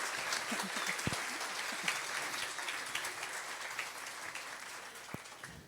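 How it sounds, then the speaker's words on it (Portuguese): Faint, distant applause from the audience at a seminar session, an even, steady patter of many hands lasting several seconds. "Palmas para elas."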